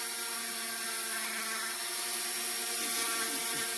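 A Dremel rotary tool running at low speed power-carves wood, rounding the bottom of a carved snowball, producing a steady, close, high-pitched whine with faint grinding as it bites.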